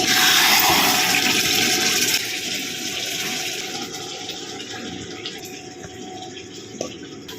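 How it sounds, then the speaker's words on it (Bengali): Boiled water pours into a pot of mutton gravy while cooking tehari, a steady loud watery rush that slowly thins and softens over several seconds, ending with a small knock near the close. "এই পাত্রটার মধ্যে ফোটানো জল মিশিয়ে দিলাম"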